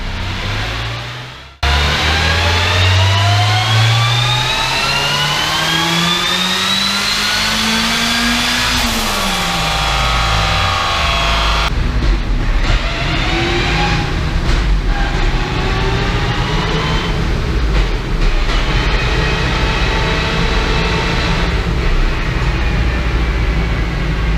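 A 300 hp Ford Transit van engine revs hard during an ECU tuning run, climbing steadily in pitch through a loud, sustained wail, then dropping and revving again, close and with no talk.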